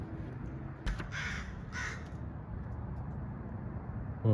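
Crows cawing outdoors, a few harsh calls in quick bursts at moderate distance over a steady low background rumble, with no talking.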